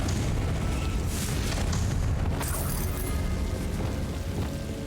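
Confringo, the blasting spell in Hogwarts Legacy, goes off with a loud, heavy explosive rumble and crackling bursts that hold steady for several seconds in the game's sound mix.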